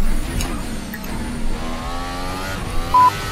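Simulated 2018 Formula 1 car lapping the Monte Carlo street circuit in Assetto Corsa, engine whine fairly faint and steady with shifting pitch and a short high blip near the end.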